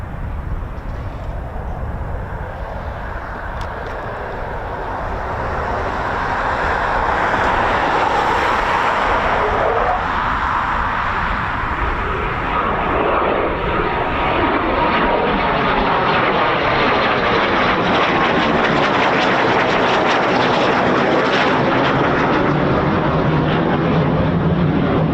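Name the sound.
Eurofighter Typhoon FGR4 jet doing touch and go at RAF Coningsby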